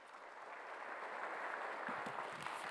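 Church congregation clapping during a Sunday worship service, a sustained wash of applause from a crowd, fairly distant and soft, with no talking over it.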